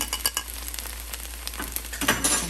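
Okra fry with spice powder is stirred in a sizzling pan: a steady frying hiss broken by scraping strokes and light clatters of the spoon, close and fairly loud.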